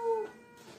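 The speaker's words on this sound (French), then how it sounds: "je parle au petit chat poilu" A small furry cat gives one short, fairly close meow that quickly fades into quiet room noise.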